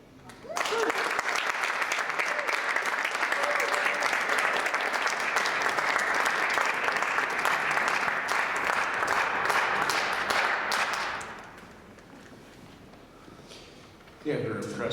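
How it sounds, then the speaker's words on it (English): An audience applauds loudly and steadily for a performer, Mr. Rob Handler, at a live show. The clapping runs at a sustained roar for about eleven seconds, then fades to a quiet room before briefly rising again at the end. "Let's give him a round of applause, please."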